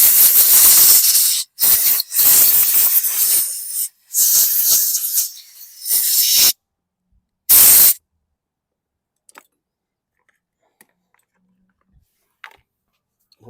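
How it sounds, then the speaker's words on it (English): Compressed air blasts out a carburetor part from a 2016 Husqvarna AWD lawn mower, loud close hissing bursts of varying length over the first eight seconds, then near silence with faint small clicks. "I'm going to blast this out with some compressed air."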